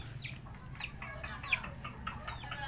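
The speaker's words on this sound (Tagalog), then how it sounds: "Ito yung mga pasaway na manok." Backyard pet chickens cluck and chirp at feeding time, soft overlapping calls repeating steadily at close range over a low outdoor hum.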